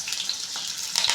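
Curry leaves crackling in hot oil with cumin and onions for a Telugu bitter gourd tempering, a brief bright sizzle that swells toward the end.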